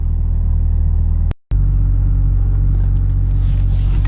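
Deep, continuous rumble from a Mazda RX8 fitted with a 1JZ-GTE VVTi turbo engine and a quieter exhaust, running cold as it pulls away, broken by a brief drop-out before the steady drone resumes.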